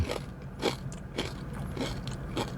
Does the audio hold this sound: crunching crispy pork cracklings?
yes